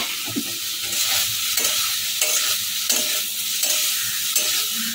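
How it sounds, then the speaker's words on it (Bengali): Fried jackfruit pieces are stirred through a sugared Schezwan masala in a frying pan: rhythmic spatula scrapes repeat roughly every half second over a steady bright sizzle, close and alone. "এবার ভেজে রাখা এঁচড়গুলো সব এর মধ্যে দিয়ে দিলাম।"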